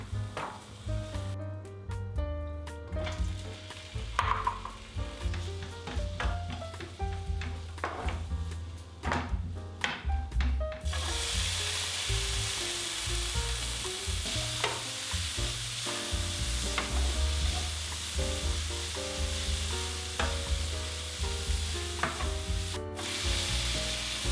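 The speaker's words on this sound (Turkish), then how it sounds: "Sebzeleri tek tek bir dakika için soteleyin." Squeezed vegetables for Korean bibimbap sautéing in a pan one at a time, with steady close sizzling, stirring and scraping, a broadband hiss that grows louder and denser partway through.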